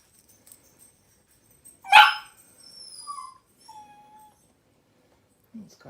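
A dog gives one sharp close bark, followed by a few softer whimpering yips and whines in an otherwise quiet room.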